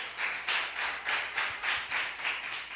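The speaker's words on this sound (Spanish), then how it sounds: "Dale palmas al Señor" A church congregation claps together for the Lord in a steady rhythmic beat, a dense wash of many hands repeating about every half second, heard from within the room.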